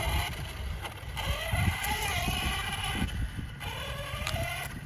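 A brushless 1/10 scale 4WD Select Four 10SC short course truck speeds past, its high electric motor whine rising and falling in repeated sweeps over steady outdoor wind rumble.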